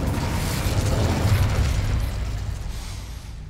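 A fire spell cast to open a gate in Hogwarts Legacy bursts out as a loud, dense roaring whoosh with deep rumbling body, sustained for about two seconds before easing into a fading crackle.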